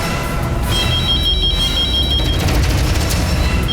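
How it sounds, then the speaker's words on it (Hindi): A telephone rings in a television drama scene, a bright repeating electronic ring sounding clearly for a couple of seconds over a busy background. "फोन उठाओ. Pick up the phone."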